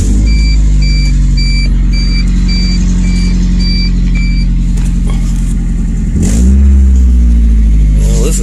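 Geo Tracker engine with a weak battery, already running: a loud, steady idle with a faint electronic beeping at first, then a brief throttle blip that raises the revs before it settles back.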